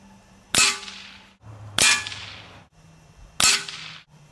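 A Gamo Hunter 440 air rifle firing Gamo Raptor pellets, three sharp loud cracks with brief ringing decays, spaced unevenly over a few seconds against a quiet background.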